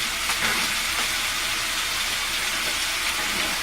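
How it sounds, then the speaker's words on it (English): Sausages sizzling in a hot pan with rapini, a steady, loud frying hiss that fills the whole stretch, close up and without any talking. "this is my rapini, and then I'm throwing my sausages in here"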